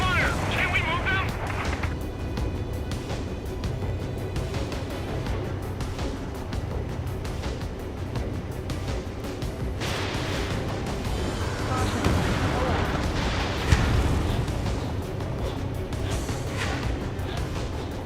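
Gunfire and explosions from combat in the Ace Combat 7 flight game, a dense continuous barrage of blasts with booming impacts, loud and steady throughout, including a heavier burst near the middle, with voices heard over it.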